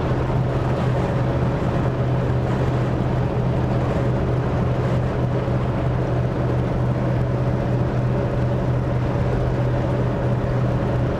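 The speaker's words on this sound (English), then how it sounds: "This car just has a nice roar to it." A 1946 Mercury 8 with a 302 engine and 9-inch rear end cruises at about 50 mph, its engine a steady, loud, low roar that holds even throughout with constant road and wind noise.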